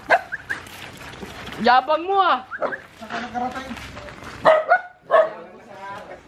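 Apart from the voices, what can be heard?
dog barking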